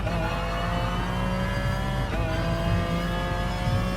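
A McLaren F1 GTR race car engine in GT Sport, revving hard and accelerating through the gears on the Tokyo East track, with a steady loud high-pitched whine that climbs in pitch, close and continuous throughout.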